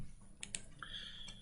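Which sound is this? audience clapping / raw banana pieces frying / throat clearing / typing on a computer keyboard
typing on a computer keyboard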